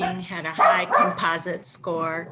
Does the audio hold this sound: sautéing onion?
no